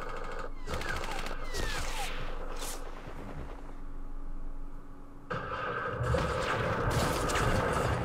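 Gunfire exchange in the Vietnam War strategy game Campaign Series Vietnam, with dense overlapping shots and bursts crackling steadily throughout, growing heavier and louder in the last few seconds.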